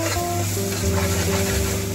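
Ginger garlic paste frying with onions for an Andhra-style country chicken curry, a steady broadband sizzle held close and even throughout, with low tonal hum lines running beneath and no talking.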